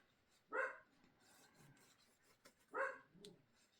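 A dog barks twice indoors, two short, moderately loud barks about two seconds apart, somewhat distant over a quiet room background.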